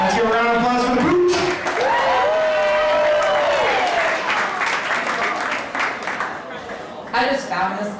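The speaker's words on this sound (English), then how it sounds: "Let's give a round of applause for the Pooch" A comedy show audience claps and cheers while a voice whoops and calls out over it, the applause swelling again near the end.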